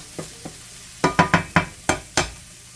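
Garlic sizzles softly in a hot pan while a utensil stirs, giving a series of sharp scraping taps over a quiet frying hiss.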